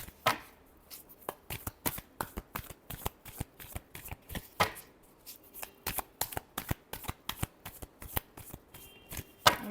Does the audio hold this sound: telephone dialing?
no